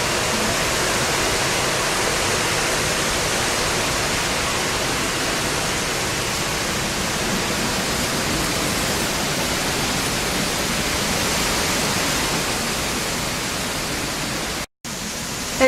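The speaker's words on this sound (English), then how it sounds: "Hurricane Irma is still going through." Hurricane Irma, a Category 2 storm, drives wind and heavy rain in a dense, continuous roar of hiss and rushing water, loud and unbroken for the whole stretch with a brief dropout near the end.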